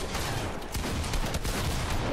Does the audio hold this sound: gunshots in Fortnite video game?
yes